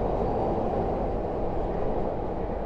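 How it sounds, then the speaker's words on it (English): Underground subway train rumbling past beneath a Chicago street near the Monadnock Building, a steady, dense low roar heard from street level without voices. "That's actually our underground train that you're hearing."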